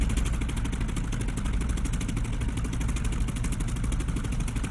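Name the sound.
Polikarpov I-16 engine running, DCS video game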